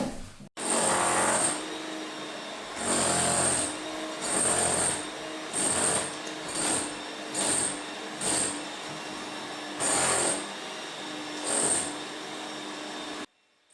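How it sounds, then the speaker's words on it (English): Jackhammer cutting knobbly bits off brick to prepare a wall for dot-and-dab plasterboard, running in repeated bursts of harsh, buzzing hammering separated by short pauses, close and loud, with no talk. "Frankie was just using the jackhammer to cut the little knobbly bits off the brick"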